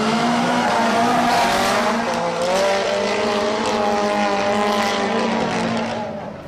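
Drift cars, a red Mazda RX-7, a Nissan S14 and a pair of Nissan 180SXs, race at Nakayama circuit with loud, high-revving engines and squealing tires that sustain and shift in pitch before fading slightly.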